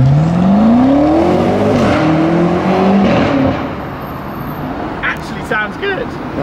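A new BMW M5 accelerates hard and pulls away on a road, its engine note climbing through rising revs before fading into traffic noise as it drives off, with people talking over it.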